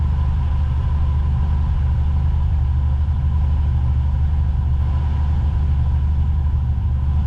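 A car engine idles steadily at close range with a constant low rumble and an engine cooling fan running, while the A/C clutch has failed; no talk is heard.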